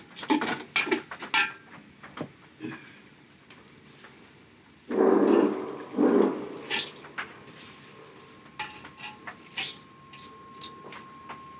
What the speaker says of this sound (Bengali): এখন চাউল দিয়ে দিব